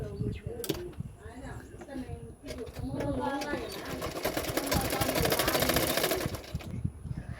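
A sewing machine stitches a size 36 katori blouse with a half-inch margin: someone talks at first, then the machine rattles in a fast, continuous run for several seconds, close and fairly loud.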